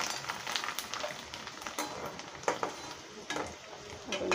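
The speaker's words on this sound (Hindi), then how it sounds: "तो थोड़े से हमारे पास ये पापड़ रखे थे तो पहले हम इनको तल लेते" Papad frying in hot oil in a home kitchen, a close, continuous sizzle and crackle with occasional stirring clinks and sharp pops.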